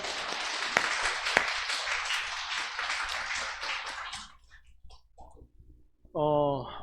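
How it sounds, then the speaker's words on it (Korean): A church congregation in New York claps during a sermon, a dense round of applause that stops after about four seconds; a voice then speaks over a quiet background. "이 시간 주님께만 영광 돌려드리며 박수 한번 합시다"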